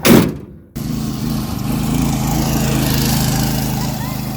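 Old riding lawn mower with a leaking gas tank, its engine starting and then running steadily at close range, a loud, even mechanical drone with a low throb.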